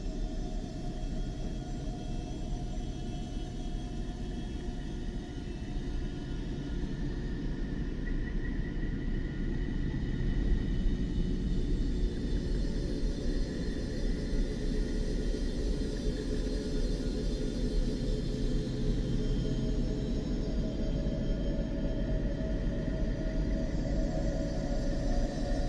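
Earth's electromagnetic emissions recorded by NASA and shifted into the audible range: a steady, dense drone with low rumble and eerie whistling, whale-like tones drifting slowly over it, continuous throughout without talk.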